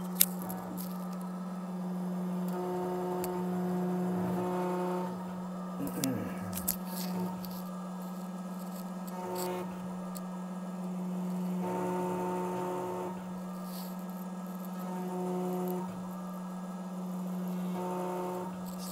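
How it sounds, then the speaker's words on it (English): A Tiger Shark2 engraving machine spinning and cutting numbers into a safe deposit box key: a steady motor hum with a repeating whine that rises and stops in regular bursts, and a voice is heard at times. "the jaw will come down and it'll touch it and it'll start spinning, and then it'll just click on engrave"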